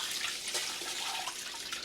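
Water pours steadily into a cooking pot for rice, a continuous soft splashing rush with no voices over it, fairly faint and close.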